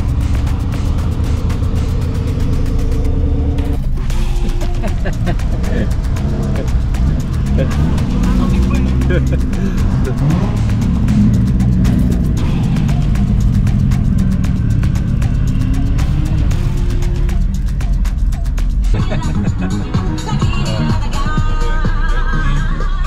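Several cars drive past one after another, a dense roar of engines and tyre rumble that swells and fades, with voices talking underneath.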